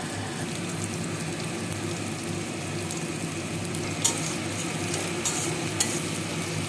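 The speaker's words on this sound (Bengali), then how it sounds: "পেঁয়াজ কুচিটা আমি ভেজে নেব" Chopped onion and a charred garlic clove sizzle and fry steadily in a pan for an Indian begun vorta, with a constant dense crackle, occasional stirring scrapes and no talk.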